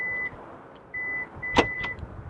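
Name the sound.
2016 Kia Optima beeping as key fob approaches trunk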